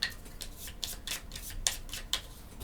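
Small board game tiles from Ayar: Children of the Sun shuffled together on a tabletop, giving a run of soft rubbing, clicking scrapes in irregular bursts, quiet and close with no talk.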